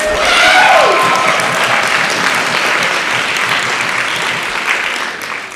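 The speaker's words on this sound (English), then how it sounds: "You can give them a round of applause." Steady, loud applause from an audience at an immigration training event in a Seattle public library, a dense continuous wash of clapping that holds for several seconds.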